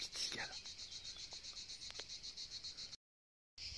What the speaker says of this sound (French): Écoutez les petites cigales.